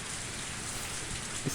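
Rain pouring down in the video game Higurashi When They Cry, a constant hiss of heavy rainfall on surfaces with dense patter, steady and moderately loud throughout, with no voices.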